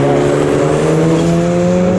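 A Honda Civic FK8 race car drives at a British Time Attack Club warm-up session, its engine a loud, close, sustained tonal drone that holds steady from start to finish.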